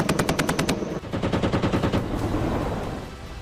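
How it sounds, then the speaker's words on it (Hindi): An Apache attack helicopter fires its gun during an Indian Army firepower demonstration in the Jaisalmer desert of Rajasthan, giving a loud rapid burst of shots that rolls into a long, echoing rumble as it fades. "धड़ाम, धमाका और देखते ही देखते आसमान से आग की बारिश शुरू हुई"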